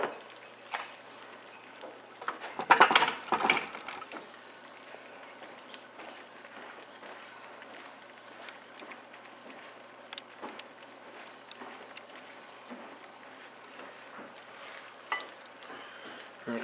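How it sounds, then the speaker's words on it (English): A spoon stirs a pot of beef stew with carrots, giving a short burst of wet scraping and clinking near the start, then faint scattered ticks against a quiet background. "I'll stir it up here so you can see it"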